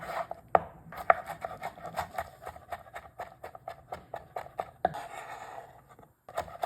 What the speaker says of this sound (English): Chop half of small tomato.